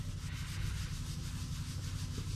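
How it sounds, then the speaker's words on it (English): A damp paper towel swirls baking soda over a burnt clear-coat finish on a wood table, a steady, close scratchy rubbing like fine sanding that runs continuously with no pauses. "you're just gonna swirl that baking soda in"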